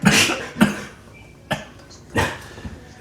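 A person coughs several times in short, harsh bursts spaced about a second apart, fairly close, with no talk over them.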